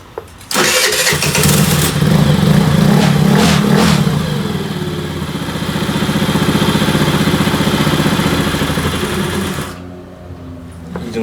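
A Yotta 80cc motorcycle engine starts after a brief crank, then settles into a loud, steady idle with a rapid mechanical patter. It runs continuously at close range before the sound cuts off near the end.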